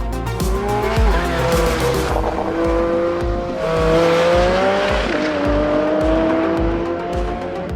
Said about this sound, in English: It's opening the flaps in the exhaust and the sound it makes then is just amazing.